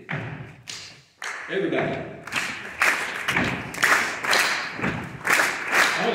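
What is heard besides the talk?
audience stomping and clapping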